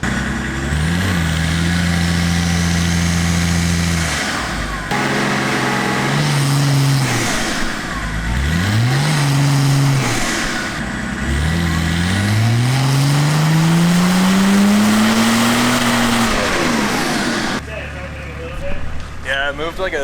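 A car's engine revs on a dyno, rolling into the throttle rather than making a full pull. Several loud, close sweeps climb in pitch and drop back, and the longest rise comes near the end before the engine settles.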